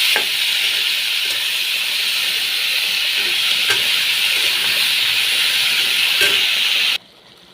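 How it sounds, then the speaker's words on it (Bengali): Vegetables frying in hot oil with cumin in a wok, a loud, steady hiss of sizzling with a few faint clinks of stirring, ending abruptly after about seven seconds, with no talk. "কড়াইতে তেল দিয়ে দিয়েছি জিরা দিয়ে দিয়েছি এখন এই যে সবজিটা"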